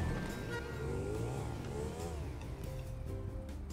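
Car engine in the GTA V video game revving and accelerating, a steady mid-pitched drone with rising and falling whine, loud and continuous with game music-like tones behind.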